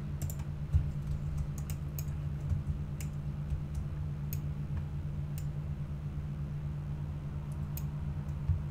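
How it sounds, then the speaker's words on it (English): Rapid computer keyboard typing and mouse clicking during World of Warcraft play, a steady patter of close, moderately quiet key clicks with sharper isolated taps over a low background hum. "Sorry if you can hear lots of clicking."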